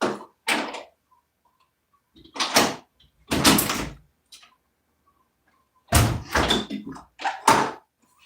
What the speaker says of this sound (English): Somebody knocked on the door